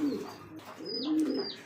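Pigeons at a pigeon farm coo in low, rolling murmurs, overlapped by a few higher chirps, close by with no talking.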